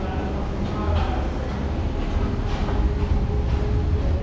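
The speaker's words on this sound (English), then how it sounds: "Bye bye Northern train." A Northern train pulls out of Stockport station, a steady low rumble and rolling rail noise heard nearby from the platform, continuous and even, with faint voices mixed in.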